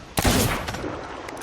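Gunfire rings out in the pirate video game Sea of Thieves, a single sharp, loud close shot with a short echoing tail, and no talking.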